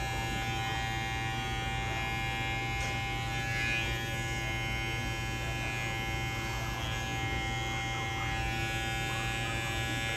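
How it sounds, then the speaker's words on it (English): An electric hair trimmer buzzes steadily during a men's clipper haircut, a constant close-up motor drone with a strong hum that barely varies, with no voices heard. "with the trimmer, you want to go and do the ears"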